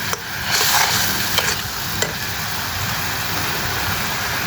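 Onions with chili and other spice powders fry in a pan for a meni fish bhuna curry. A steady close sizzle runs throughout, with a few sharp scraping clicks from stirring near the start.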